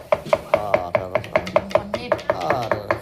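Rhythmic knife chopping of fish on a board for Thai larb, a steady run of about fifteen sharp near strikes at an even pace, with no talking.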